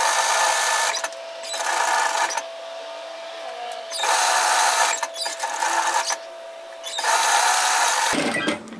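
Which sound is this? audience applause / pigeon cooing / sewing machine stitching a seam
sewing machine stitching a seam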